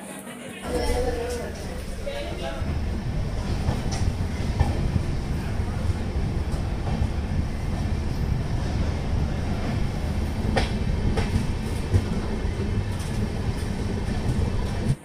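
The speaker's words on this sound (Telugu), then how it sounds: "మన ట్రైన్ అయితే జామ్నగర్ స్టేషన్ నుండి డిపార్ట్ అవుతుంది" Okha–Puri Express with LHB coaches pulling out of Jamnagar station, a continuous low rumble with rail clatter and occasional knocks building steadily throughout.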